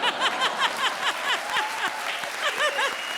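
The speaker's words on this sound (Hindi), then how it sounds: "आप ताली बजा रहे हो।" Audience applause at a televised Indian comedy show, with a studio crowd clapping in bursts that rise and fall over a few seconds, mixed with faint laughter.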